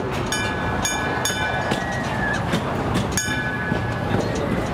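An amusement park train at Cedar Point rolls steadily along rails with rhythmic clickety-clack wheel clicks, a constant rumble and a faint squeal, no talking.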